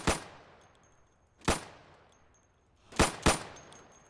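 Four sharp sidearm pistol shots in the video game Insurgency, spaced irregularly with the last two close together, each with a short decaying tail and no talking.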